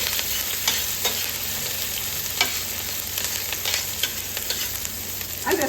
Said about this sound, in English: This is going to sizzle a little bit.